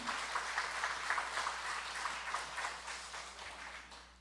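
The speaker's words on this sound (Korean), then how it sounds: "다시 한번 우리 박수로 우리 또 우리 감사의 찬양 부탁드리겠습니다" Church congregation applauding during a Sunday worship service, a steady, fairly quiet patter of many hands clapping that holds for several seconds at moderate distance.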